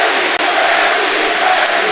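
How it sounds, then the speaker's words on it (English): Loud, continuous crowd roar with cheering at the Manhattan Beach Grand Prix bike race, a broad wall of many voices filling the air without letup. "Listen to that crowd noise."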